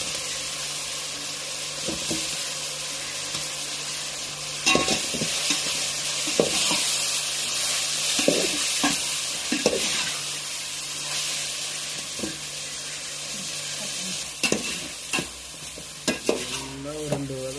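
Chicken pieces sizzle and fry in a pan for chicken biryani, stirred with scattered clanks of a spoon against the pan and a steady hiss running underneath throughout.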